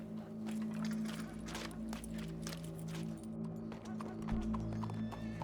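Horse hooves clip-clop steadily in Red Dead Redemption 2, a continuous rhythmic clatter over a low droning game ambience, with a brief heavier thump near the end.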